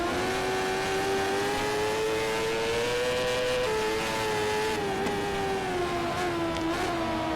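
Moto2 racing bike engine in the PS3 game MotoGP 13, a steady loud high-pitched whine that holds close throughout with slight pitch rises and dips as the bike accelerates and brakes.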